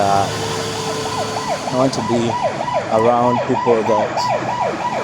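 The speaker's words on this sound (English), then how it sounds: "That's an ambulance." Ambulance siren wailing in a steady, rapidly repeating up-down pattern as it passes close by on a road in Uganda, loud over traffic, with a voice briefly talking beneath it.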